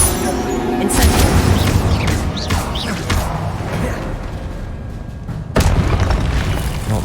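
Spell blasts of the Incendio fire charm in Hogwarts Legacy, a few booming bursts with whooshing flares, the loudest near the start and another around two-thirds through, over continuous game ambience.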